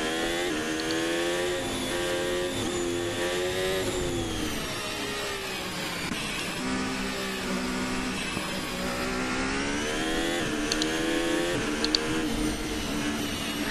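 Formula 1 race car lapping the Sachsenring, its high engine note rising and falling steadily through gear changes, loud and continuous for the whole stretch with no talking.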